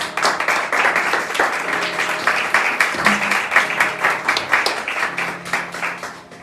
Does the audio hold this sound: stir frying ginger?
no